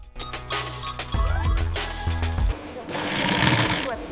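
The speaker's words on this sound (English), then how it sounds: "The stripes are stitched together, strong, straight, and seamless." An industrial sewing machine stitches red and white fabric stripes for an American flag in a factory, running in loud rapid bursts with brief pauses and a brighter, noisier whir near the end.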